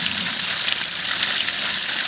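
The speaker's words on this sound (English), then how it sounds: "the water is coming out at about between 25, somewhere between as little as 25 gallons a minute" Water gushing from a well pump at roughly 25 gallons a minute, a steady loud broadband rush that holds without a break, close by and with no voices.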